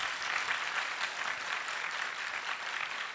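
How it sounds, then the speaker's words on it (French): A faint, steady wash of applause from an audience cheering young entrepreneurs at a results announcement, distant and even with no voices. "ces jeunes entrepreneurs dynamiques qui vont s'applaudir très très fort"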